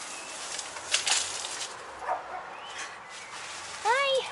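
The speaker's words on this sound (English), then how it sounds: "Are you friendly, puppy?" Small puppy giving a few short high yips and a rising whimper near the end, close by and fairly quiet against a soft outdoor background.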